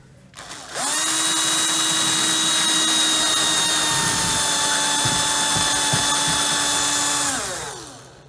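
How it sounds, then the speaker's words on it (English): A power drill whines at a steady high pitch for several seconds, drilling a hole in wooden model railroad benchwork, close and loud, then winds down as the trigger is released. "the hole's not big enough just yet. I'm gonna use a bigger drill bit."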